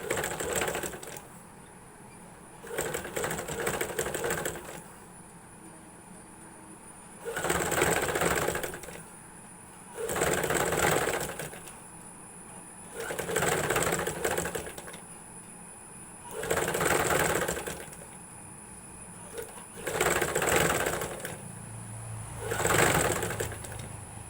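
A sewing machine stitches canvas for a garment neck in repeated bursts of rapid mechanical whirring, each about two seconds long, separated by short pauses. It runs close and steady with no talking.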